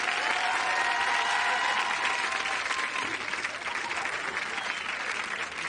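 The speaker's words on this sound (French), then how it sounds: "on les applaudit, Florent Père et Karine Ferry." A studio audience on a French TV entertainment show applauds loudly and steadily, with dense, continuous clapping and faint cheers mixed in throughout.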